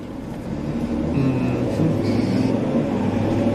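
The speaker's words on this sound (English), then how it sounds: "That truck sounds not healthy." An unhealthy-sounding truck engine rumbles nearby with a rough, uneven drone, growing louder at first and then holding steady with occasional whining tones.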